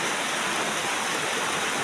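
Heavy rain pours steadily onto plants in a rural countryside setting, a dense, continuous hiss with no pauses and no voices.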